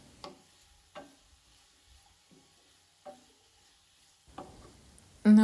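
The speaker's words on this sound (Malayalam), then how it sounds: "നല്ലപോലെ ഇളക്കി കൊടുക്കാം." A spoon stirs sliced onions frying in a pan for biryani, with a handful of soft, separate scraping strokes at an uneven pace over a faint, steady sizzle, close by and quiet.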